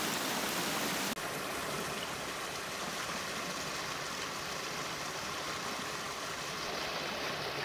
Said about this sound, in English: Nice cascade, waterfall coming down, little stream